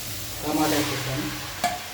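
Tomatoes are stirred in a frying pan while cooking a tomato curry, a soft scraping stir with faint sizzling and a sharp clink near the end, close and quiet.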